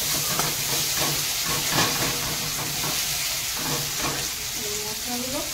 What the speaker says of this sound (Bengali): রসুনটা একটু তেলে ভেজে নেব।